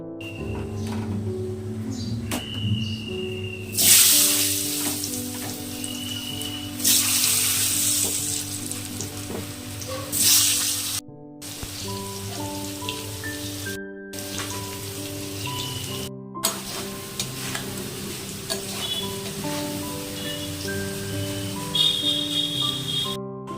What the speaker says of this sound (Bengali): তেল গরম হয়ে গেলে প্রথমে আলু ভেজে